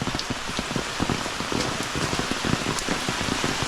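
Steady rain pattering densely on a surface, close and continuous, with scattered heavier drops and no voices.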